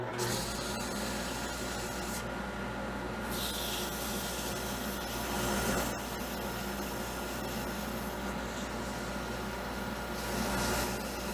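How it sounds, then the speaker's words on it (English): Steady rubbing and scratching of sandpaper on a carved wooden ghost figure goes on at close range for the whole stretch, with no talk over it. "now let's sand that line out so we can get a little bit further"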